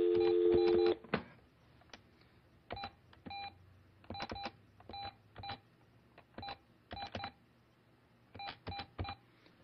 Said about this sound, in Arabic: دعني أتصل بنفس الرقم من تلفون آخر.